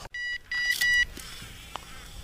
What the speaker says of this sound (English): Your feeder's beeping.